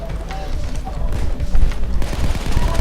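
Rapid bursts of gunfire in the video game Payday 2 crackle over a dense, busy mix, with voices seeming to run underneath throughout.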